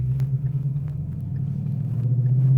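A 2015-2017 Ford Mustang GT with an AWE Track Edition stainless steel 3-inch cat-back exhaust revs gradually, a deep, steady low rumble swelling slightly louder over a couple of seconds.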